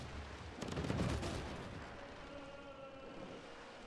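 Unit shooting in the Civilization VI strategy game during a city siege: a single muffled boom with a rumbling tail that fades slowly over a few seconds, fairly faint.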